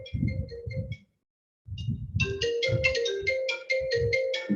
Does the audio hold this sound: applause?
no